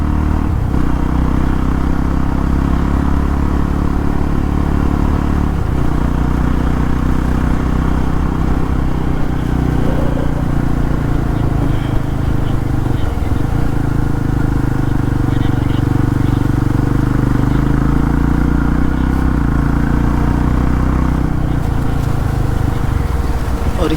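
A Yazdi Roadster motorcycle rides on a long highway trip, its engine a steady loud drone mixed with heavy wind rush and road rumble throughout, with no clear revving changes.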